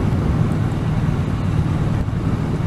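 A Triumph Street Cup 900 motorcycle being ridden on country lanes, a continuous low engine drone mixed with heavy wind rush, steady and loud with no talking.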